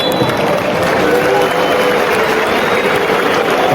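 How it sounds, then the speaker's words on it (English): A football stadium crowd during a Malmö FF against Mjällby AIF match makes a dense, loud, constant roar, with clapping from the away supporters folded into the noise. "Mixed reactions, clap on the away side, and for the Malmö supporters, it's not that pleasant so far."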